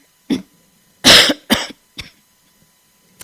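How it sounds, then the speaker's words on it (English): A person coughs repeatedly and uncontrollably as a medication side effect, five sharp close bursts spaced unevenly with quiet gaps between them, the second longest and loudest. "I'm taking a drug that's causing this cough that I can't control"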